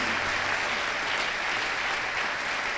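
A church congregation applauding and cheering loudly, dense continuous clapping from a large crowd that fills the space for the whole stretch.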